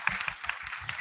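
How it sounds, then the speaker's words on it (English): Brief applause from a student panel audience, a quick run of distinct, moderately loud claps in an uneven rhythm lasting about a second. "A round of applause for her,"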